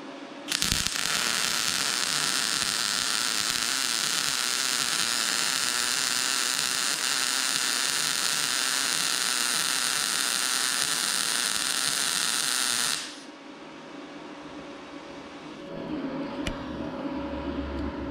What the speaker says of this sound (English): manually turn down the amperage to about 120, and we'll see how it welds.